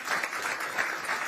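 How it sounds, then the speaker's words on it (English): A short burst of steady audience applause at a boxing press conference, a dense wash of clapping from a crowd at moderate distance. "Nelson Birchall, ladies and gentlemen, give him a round of applause"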